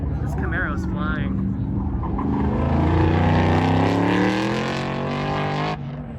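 A Chevrolet Camaro race car tears down the track at Las Vegas Speedway during Holley LS Fest West 2021, its loud engine roar climbing steadily in pitch for several seconds before cutting off abruptly, with voices over the start.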